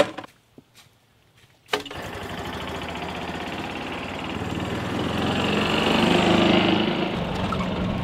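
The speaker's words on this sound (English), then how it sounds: "Let's hop back in the golf cart, let's get out of here." A golf cart's small engine starts up after a few soft knocks and drives away, its steady drone swelling gradually louder with no talking.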